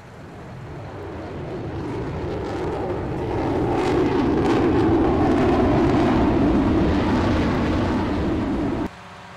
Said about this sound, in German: Das ist der Trecker.